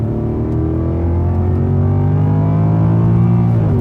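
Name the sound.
Mercedes AMG CLK Black Series accelerating in second gear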